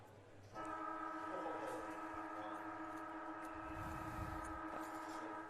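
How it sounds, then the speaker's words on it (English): Stadium siren at TIO Stadium blaring for three-quarter time in an NTFL men's Australian rules football match, a loud sustained wailing tone that starts abruptly and is held for several seconds over a low background. "the extended hold on the siren there"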